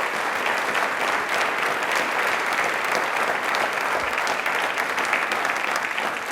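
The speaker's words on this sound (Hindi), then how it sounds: "तालियां एक बार प्लीज जोरदार हो जाए" Studio audience at a televised Rajasthani quiz show gives loud, sustained applause, dense and steady throughout, congratulating someone on taking an oath of office.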